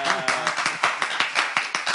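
Children in a group clap rhythmically in time, a quick run of sharp, evenly spaced claps close by, with a voice heard briefly near the start.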